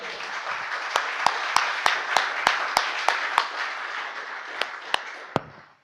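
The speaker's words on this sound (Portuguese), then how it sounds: "Palmas ao Senhor comigo, por favor." A church congregation clapping in unison, about a dozen sharp, evenly spaced claps over a soft bed of crowd noise, slowing and tapering off near the end.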